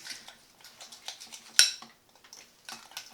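A utensil stirs deviled egg filling in a bowl with quick soft scraping and tapping strokes, one sharper clink in the middle, close and fairly quiet with no talk.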